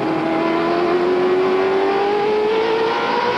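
A NASCAR race car engine at the 2002 Old Dominion 500 screams at about 8,800 RPM, a loud continuous high-pitched drone whose pitch slowly rises as the car holds speed, with no voices over it.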